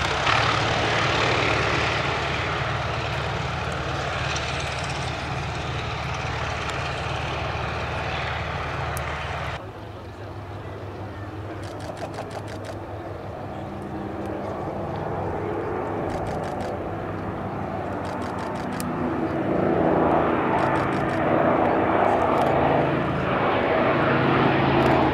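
A twin-engine Avro Anson and two Gloster Gladiator biplanes take off at the Duxford Battle of Britain Airshow, a loud propeller drone that dips, then swells again as the aircraft pass, with no talk.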